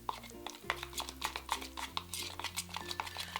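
Spoon scraping and clinking repeatedly in a bowl while stirring a stiff mixture of Aztec healing clay, a rhythmic series of close, sharp taps and scrapes with no talk.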